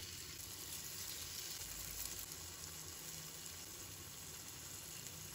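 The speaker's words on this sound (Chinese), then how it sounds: "油热之后，把鸡胸肉一块块的放进来" Chicken breast pieces fry in hot cooking oil in a pan, giving a faint, steady sizzle that runs unbroken throughout.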